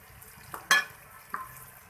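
Tomatoes, onions and spices fry in a pot for bhindi gosht while a spoon gives two brief, close scraping stirs over a low, quiet sizzle.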